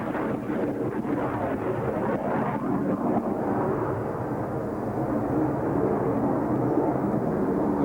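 A Royal New Zealand Air Force 75 Squadron jet makes an inverted pass into a hard turn. It gives a loud, continuous, broadband roar that holds steady throughout, with no breaks.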